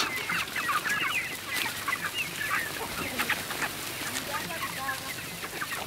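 Roosters and hens on a poultry farm cluck and call repeatedly in overlapping bursts, fairly close, with a faint murmur of voices beneath.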